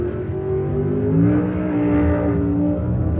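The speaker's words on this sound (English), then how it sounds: "Pro Stock race cars most closely resemble production vehicles" A loud Pro Stock drag race car engine roars steadily at high revs, its deep tone rising slightly in pitch before holding, heard close up.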